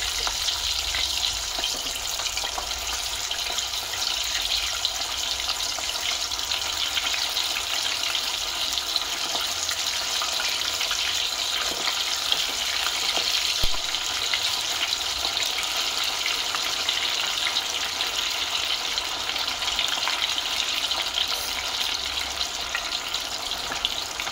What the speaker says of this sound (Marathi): आपल्याला टिक्या सगळ्या तेलात सोडायचे आहेत